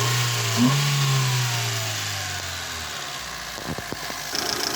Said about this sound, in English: Revved it up a bit to get it hot again, and the fan is cut in as it should do.